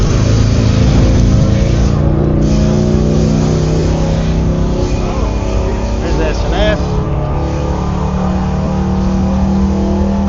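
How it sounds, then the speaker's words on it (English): An engine with a stuck throttle revs hard and continuously at Daytona Bike Week, a loud sustained roar with a shifting drone, and a voice speaks over it. "I think somebody got the throttle stuck."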